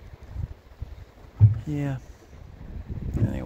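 Wind gusting across a small dinghy out at sea, a rough broadband rush rising and falling, with a short spoken word and a brief voiced sound partway through.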